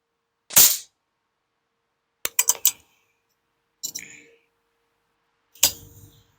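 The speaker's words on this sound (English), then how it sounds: "So let's do a little 3-shot group." A PCP air rifle fires pellets at a target 25 yards away. Sharp, dry cracks ring out, one alone, then a quick burst of three, then two more single shots, each separated by silence.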